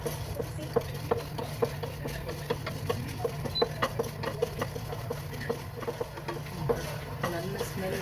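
Black peppercorns being dry-roasted in a pan for milagu kuzhambu pepper gravy while a spoon stirs them, rhythmic close scraping strokes over a low steady hum of the stove.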